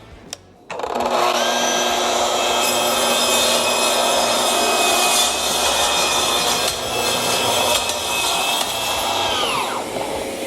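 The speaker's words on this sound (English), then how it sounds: "I think I'm going to go ahead and just do it on the track saw" Track saw ripping through wood for a wooden boat build, the motor spinning up sharply then holding a loud, continuous whining cut for about ten seconds before winding down.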